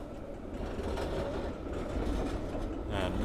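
A Helsinki tram rumbles past on a city street in the evening, a steady low rolling drone close by with faint rail clatter, heard without talk.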